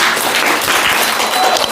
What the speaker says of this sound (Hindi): चलो ठीक है, ताली बजाओ इसमें।